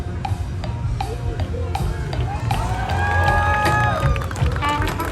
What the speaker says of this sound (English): Big round of applause for Chachi and Chico in the Great Escape.